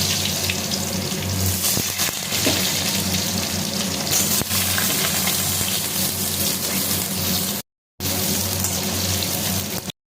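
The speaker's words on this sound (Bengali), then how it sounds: "এবার এর মধ্যে দিয়ে দেবো কেটে রাখা আলু" Cut potatoes dropped into hot oil with cumin and bay leaf set off a loud, continuous, rushing sizzle that holds steady, broken only by a short silent gap near the end.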